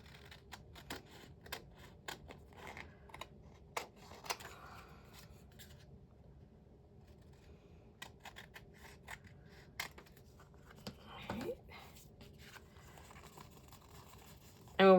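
Scissors snip through paper during junk journal making with a composition notebook, a scattering of short, crisp cuts and paper rustles at close range, separated by quieter pauses, with no talking.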